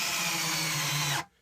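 A power drill drives a screw through a wooden foot into a cajon with a loud, steady whine up close, then stops abruptly.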